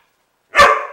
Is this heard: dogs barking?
yes